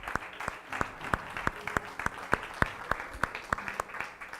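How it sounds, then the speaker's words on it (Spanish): Sparse, sharp handclaps from a church congregation in a loose, steady rhythm, fairly close and moderately loud throughout, with no one speaking over them. "Dale un aplauso al Rey de Reyes."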